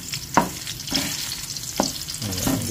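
Onions sautéing in a hot pan: an even, close sizzle punctuated by a few crisp spatula scrapes and stirs.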